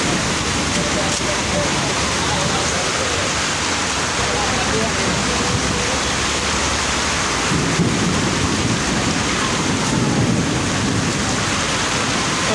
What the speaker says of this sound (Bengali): ঝড় বৃষ্টি একটু বেশি মনে হইতেছে।